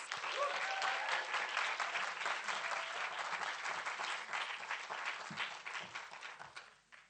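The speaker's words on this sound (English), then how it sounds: "So can we have a round of applause?" Sustained audience applause fills a theatre space in Brent, a dense steady clapping that holds strong for several seconds before thinning and fading out at the end.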